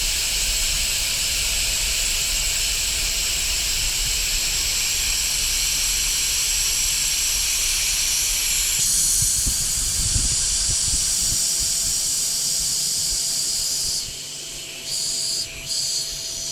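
Air hissing loudly and continuously through large-core valves while inflating a 40-inch tire on a beadlock wheel at home, a close, steady rush that shifts tone midway and then softens and sputters near the end.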